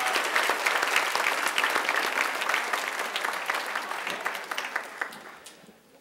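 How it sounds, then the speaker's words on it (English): Audience applause at a high school senior awards ceremony, a strong burst of many hands clapping that gradually fades over a few seconds into scattered claps. "How about one more round of applause for these outstanding accomplishments?"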